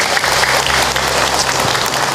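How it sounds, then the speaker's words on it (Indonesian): A crowd at a religious talk applauds steadily and loudly, a dense wash of clapping hands filling the whole moment. "Tepuk tangan buat kita semua."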